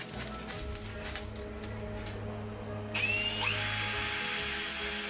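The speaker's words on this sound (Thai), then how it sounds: "เจาะด้วยสว่านนำแล้วตามด้วยลูกรีเวทในการเย็บ" A power drill bores pilot holes for rivets in sheet metal rolled around a 3-inch pipe jig while a biomass stove is being built. A short, sharp whine of drilling cuts in partway through over a low steady hum.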